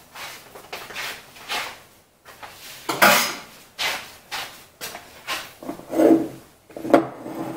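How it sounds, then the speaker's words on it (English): A utensil scrapes and taps inside a jar of sourdough starter, making a series of close, short scraping strokes with small glassy clinks and brief pauses between them. "I just want to scrape just a smidgen, make sure everything's down in there."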